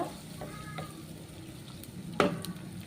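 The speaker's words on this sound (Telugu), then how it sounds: "మనకి ఇవి ఫ్రై అవుతున్నాయి కదా" Vegetables frying in a pan for an amaranth leaf curry, with a soft steady sizzle and a few stirring scrapes, one louder clatter near the end.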